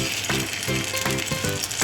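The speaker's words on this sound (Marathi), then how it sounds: "आपलं तेल जे गरम झालेलं आहे यामध्ये आपण हे पनीर सगळं घालून घ्यायचं आहे शॅलो फ्राय करण्यासाठी" Paneer sizzles and crackles in hot oil, a dense steady frying hiss with rhythmic scraping pulses from stirring.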